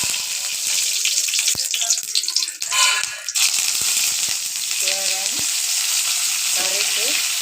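Mustard seeds and lentils sizzle steadily in hot oil in a kadai, a loud continuous crackle that briefly swells around the middle, with faint popping toward the end.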